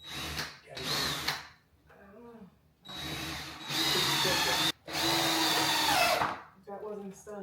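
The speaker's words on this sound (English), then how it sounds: "Sure, twist that drill, put it up." Power drill driving screws into wood while a 1994 fireplace is rebuilt in rustic farmhouse style, with bursts of loud, close whirring separated by short pauses and the rest of the work sounds.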